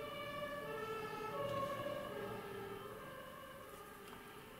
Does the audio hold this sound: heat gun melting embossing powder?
no